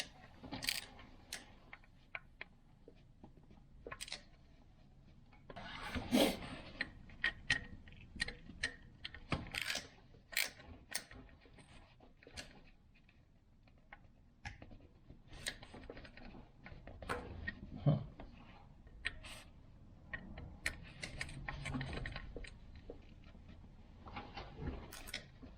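Small metallic clicks, ticks and clinks of a 5 mm socket and ratchet working on the camshaft sensor bolts of a Jeep XJ, scattered irregular taps close by with a quiet background.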